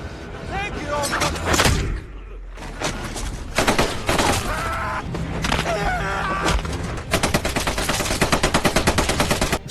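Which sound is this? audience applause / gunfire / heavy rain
gunfire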